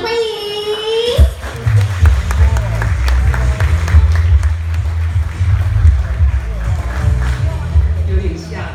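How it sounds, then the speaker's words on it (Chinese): Applause at the opening ceremony of a Porsche showroom and service center in New Taipei: a crowd claps steadily over loud background music after a brief announcer's voice. "掌声欢迎"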